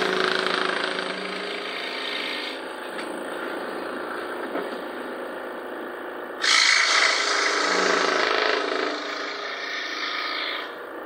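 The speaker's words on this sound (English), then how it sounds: "On my scroll saw, I'm going to use it to cut out our little triangle pieces." Scroll saw cutting triangle pieces from a wooden fence picket, a close, steady buzzing whine that shifts pitch partway through as the blade works the wood, continuous with no voices.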